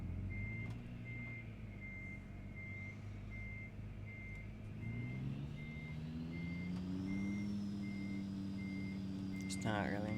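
A truck in American Truck Simulator reverses with a steady series of evenly spaced beeps as the engine rumbles and rises in pitch, with a hiss of air near the end and faint talk underneath.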